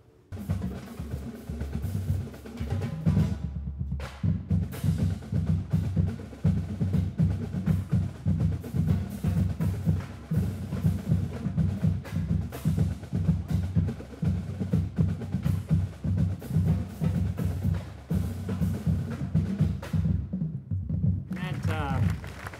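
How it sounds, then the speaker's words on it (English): A marching drum line plays a steady cadence for the whole stretch, dense snare rolls and booming bass drums, loud and continuous with brief gaps near the start and end. "And now, we get to hear it from the drum line."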